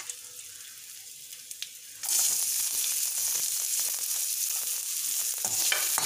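Onion hitting a hot pan for chutney after tamarind, with a quiet hiss that suddenly jumps into a loud, dense sizzle that holds steady for several seconds.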